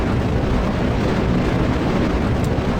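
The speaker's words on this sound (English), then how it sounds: "3, 2, 1, and ignition. Oh, and I've burned the... Sorry, I burned the stand. Look at our rocket go." Rocket engine roaring steadily after ignition at launch in Kerbal Space Program, a loud, continuous broadband rumble with no break from start to end and no voices.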